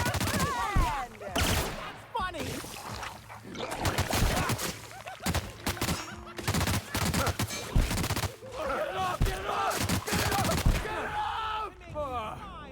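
Enemy gunfire in The Outer Worlds: bursts of shots and volleys crackling in irregular clusters throughout, loud and close, with game voices talking over parts of the exchange.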